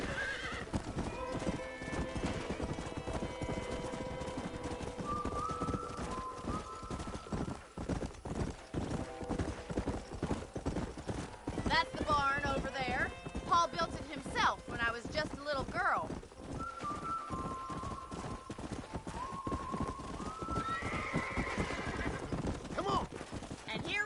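Horse riding in the Red Dead Redemption video game: steady clip-clop hoofbeats with occasional neighs and whinnies, mixed with game music and characters talking over the ride.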